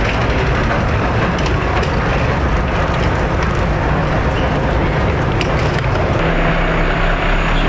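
Hong Kong MTR Island Line metro train, a steady loud rumble and roar of the carriage in motion, with a continuous rolling drone and a faint shift in tone near the end.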